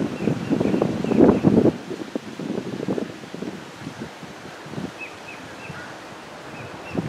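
Gusting wind buffets the microphone by rough water, a strong rumbling roar in the first seconds that eases into a steady outdoor whoosh.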